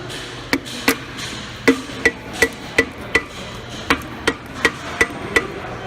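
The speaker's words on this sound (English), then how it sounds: "You just tap the piston back into the block." Sharp metallic hammer taps driving a piston back into an engine block, about fifteen of them at a steady, slightly uneven pace, close by with a faint hum underneath.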